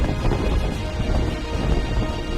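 Heavy rain and rumbling wind from the powerful storm Eowyn striking Britain and Ireland form a dense, steady roar of noise with low thundery rumbles throughout and no voices.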